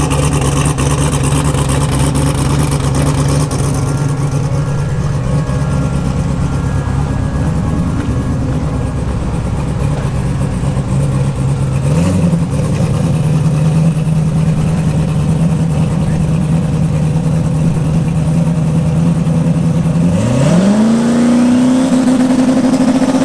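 A twin-turbo drag race car at LS Fest 2020 drones loudly under load for about twenty seconds, the engine note climbing gradually, then dips and sweeps sharply up in pitch near the end as it revs hard.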